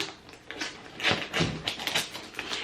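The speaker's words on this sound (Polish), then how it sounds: "Jestem bardzo ciekawa, więc nożyczki otwieram." Scissors opening a parcel from a shop, heard as a close run of irregular snips, taps and rustles of packaging, moderately quiet with no talk.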